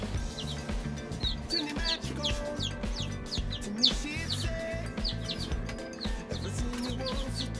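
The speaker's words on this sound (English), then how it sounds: "I'm taking my chicks out of this little incubator" Miniature silkie chicks chirping steadily in a box after leaving a small incubator, many high peeping calls overlapping in quick irregular bursts over a low background hum.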